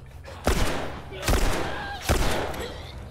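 Three sharp gunshots from The Last of Us ring out about a second apart, each a loud broadband crack with a short decaying tail over a low game ambience.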